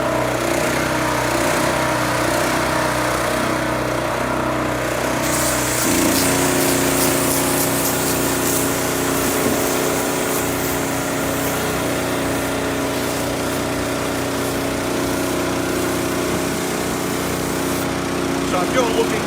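A petrol-driven PRO-CUBE Mini booster unit engine runs at high revs, a loud sustained droning hum with a pitch shift partway through, continuing steadily throughout.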